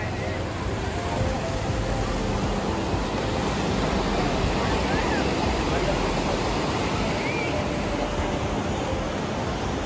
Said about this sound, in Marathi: हा गणपतीपुळेचा समुद्र किनारा